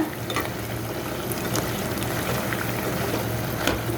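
Potato popcorn frying in hot oil gives a constant bubbling, seething hiss with scattered light pops and crackles, moderately loud and steady throughout.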